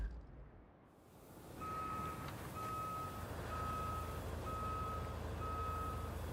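In the video game RoadCraft, a truck's reversing alarm sounds a steady series of evenly spaced, high, clear beeps. They start after about a second and a half and sit over a low, constant engine rumble.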